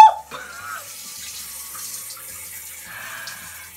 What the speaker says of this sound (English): this is a steady stream of water